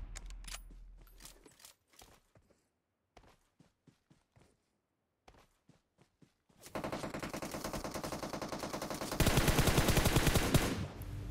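PUBG gameplay opens with scattered single shots and light clicks and footsteps, then breaks into a rapid, continuous automatic-rifle burst that grows louder and denser toward the end, with brief pauses between strings.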